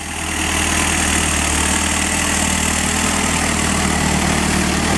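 A Yanmar YM351A tractor diesel engine idles steadily close by, rock-lying farmland around it, a loud continuous low rumble with constant broadband noise and no speech.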